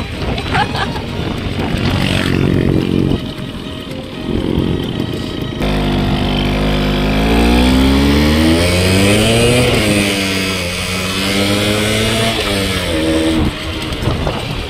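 A Yamaha Force 1 110 motorcycle accelerates hard while ridden, its engine note climbing steadily through the gears with a loud, close, continuous rising whine and wind rush.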